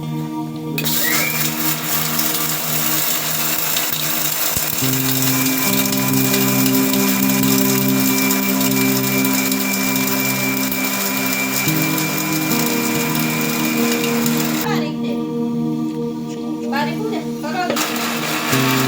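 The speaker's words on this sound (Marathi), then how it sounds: "हे धने, तीळ, चक्रीफूल आणि लवंग, मिरे हे सगळं वाटण करून घेणार आहे मिक्सरला" A mixer grinder loaded with coriander seeds, sesame, star anise, cloves and black pepper whirs loudly and steadily, with a gritty rattling whine, and its motor pitch shifts partway through; a voice talks over it.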